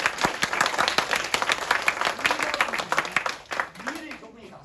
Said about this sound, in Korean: 인정하면 박수 한번 치시죠.